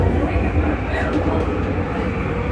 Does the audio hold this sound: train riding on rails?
yes